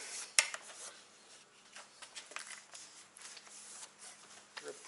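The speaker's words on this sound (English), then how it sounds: "I'm just gently giving it a light scrape" Light, faint scraping and rasping at a dirt bike handlebar while dirt is cleared off, short irregular strokes with a small metallic tick near the start.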